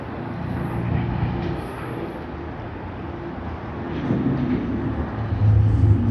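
A Cathay Pacific Boeing 777-300 at Sydney Airport produces a broad, steady jet roar from a moderate distance that swells slightly toward the end, with no talk.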